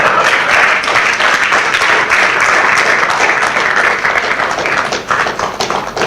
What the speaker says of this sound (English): As you are clapping your hands,